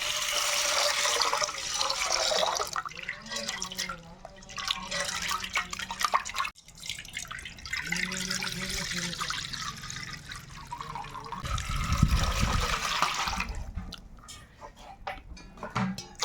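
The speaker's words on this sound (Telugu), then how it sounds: "కందిపప്పును ఒకసారి కడిగేస్తాను ఇలా నీళ్ళతో" Water sloshes and swirls in a bowl up close, with splashing and dripping as pigeon pea lentils are rinsed and stirred by hand.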